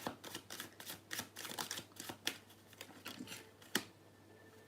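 A tarot card is drawn from a deck with soft, faint papery flicks and taps coming in irregular bursts, one sharper snap near the end, with no talk over it.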